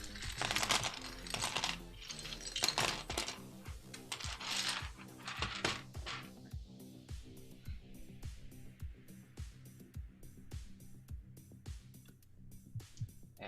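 Loose plastic keyboard keycaps clatter and tick as they are handled and sorted, with dense rattling bursts early on thinning into a steady series of separate clicks, close and fairly quiet.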